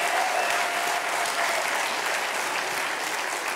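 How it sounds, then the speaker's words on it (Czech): Warm, sustained applause from a studio audience at a Czech talk show, loud and dense throughout, with a brief tone near the start. "Děkuji za krásný potlesk"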